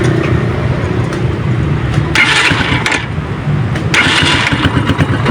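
A Rusi TC 150 motorcycle engine cranks and catches in two loud bursts of revving, sputtering out between them as it fails to stay running, over a steady low rumble.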